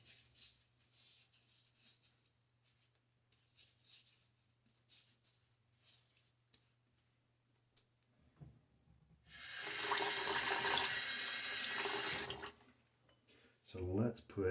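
Close by, water splashes and trickles into Stirling shaving soap, a few seconds of steady pouring near the end that stands out from quieter handling and faint dripping.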